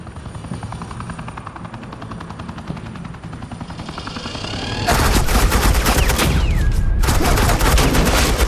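Suppressing fire in the game Batman: The Enemy Within starts under a steady helicopter rotor drone. Loud, dense machine-gun bursts then erupt and hammer on with a short pause near the end.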